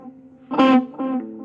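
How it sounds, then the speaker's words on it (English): A single electric guitar note sounds through an echo delay, with a bright main strike followed by a clearly separate, softer repeat, heard alone with no talking. "Hear the echo."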